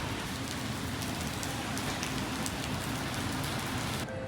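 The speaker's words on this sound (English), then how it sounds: "Still raining." Steady heavy rain falls in Singapore, a dense, even hiss of drops on surfaces that continues unbroken from start to finish.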